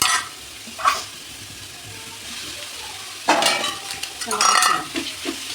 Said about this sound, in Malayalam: ഇത് നല്ലോണം എന്ത് ചെയ്യാം, മിക്സ് ചെയ്ത് കൊടുക്കാം.